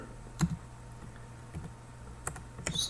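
Keystrokes on a computer keyboard as a PowerShell command is entered on Windows Server 2012 R2, a few scattered close clicks and taps over quiet room hiss.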